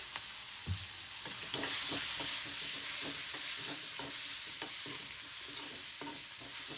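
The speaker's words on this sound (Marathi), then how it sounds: "टोमॅटोला हलकंसं फ्राय करून घ्यायचं आहे" Tomatoes fry in a pan for a carrot vegetable dish, a steady close sizzle broken by repeated scrapes and clinks of a spoon stirring, with no talking.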